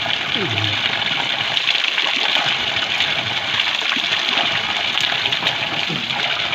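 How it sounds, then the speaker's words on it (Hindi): Water flowing from a centuries-old village stream outlet at a spring, a steady close rush and gush with light splashing, continuous throughout while someone talks over it. "यहाँ देखिए आप कहाँ अंदर से आ रहा है पानी। ये कई सौ साल पुराना धारा है।"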